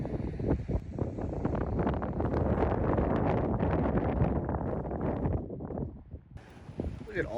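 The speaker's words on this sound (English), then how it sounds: "it is so freaking windy" Strong gusting wind at a desert campsite in Sand Hollow State Park, loud roaring buffeting across the microphone with rustling debris, easing briefly near the end; a voice speaks amid it.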